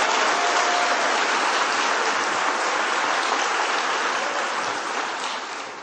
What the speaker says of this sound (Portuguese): aplauda Ele para a glória do seu nome